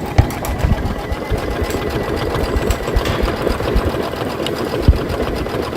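A Kimberbell embroidery machine stitches a sew-along pattern in an 8x12 hoop, its steady rapid mechanical chatter running close and loud throughout with no talking.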